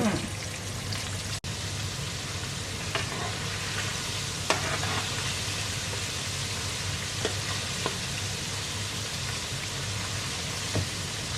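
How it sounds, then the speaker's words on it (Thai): Steady, dense sizzling of thinly floured chicken wings frying in hot oil fills the whole stretch, with occasional faint clicks and pops. "ทอดไปเรื่อยๆทุกคน"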